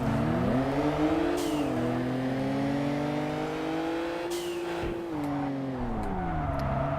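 A race car engine in the Kaido Racer video game revs steadily and loudly for the whole stretch, its pitch climbing and dipping through gear changes around a hairpin, with no talk over it.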